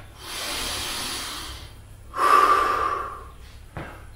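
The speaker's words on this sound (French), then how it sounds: "Et on respire." A person breathes heavily after karate exercise, two long, close, hissing exhalations, the second louder and sharper, then a brief quick inhale, with no talk.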